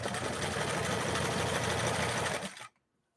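A Singer 328K sewing machine runs at a steady, rapid stitching clatter for about two and a half seconds, then stops abruptly into silence, heard close up.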